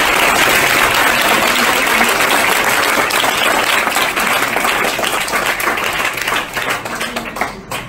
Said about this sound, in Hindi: ये तीनों बहनों के लिए ताली हो जाए